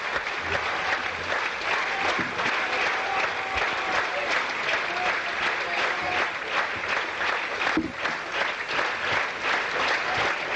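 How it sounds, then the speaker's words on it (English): Sustained cricket crowd applause at a Sri Lanka versus England Test match, loud and dense, clapping steadily throughout without letting up, with a murmur of voices underneath. "You can hear the applause."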